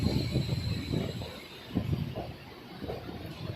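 A Rajahmundry–Bhimavaram passenger train rolls along the tracks with rhythmic low rumbling and clatter, steady and fairly close, with no voices.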